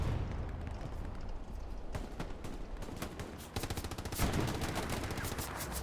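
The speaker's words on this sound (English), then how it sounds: "Machine gun does not care." Machine gun fire in a World War II online strategy match, rapid continuous bursts rattling on over a noisy battlefield bed of distant shots and rumble, with short gaps between volleys.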